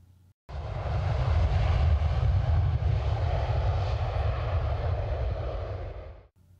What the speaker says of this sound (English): Let's hop in the jet and head to Massachusetts.